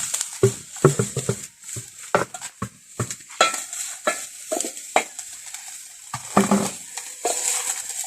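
A traditional wooden cooking stick stirs corn flour in a pot over a firewood three-stone fire, giving repeated scraping, thumping strokes in an irregular rhythm, close and moderately loud, with a faint sizzle beneath.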